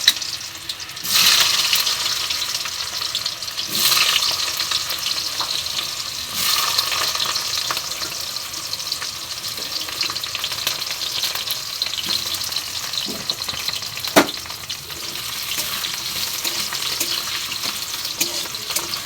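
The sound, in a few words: boiled potatoes frying in hot oil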